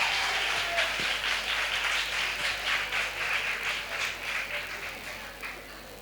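Nursing college students applaud at a state-level World AIDS Day event, a steady crowd of clapping that carries on loud and even for several seconds before gradually thinning out.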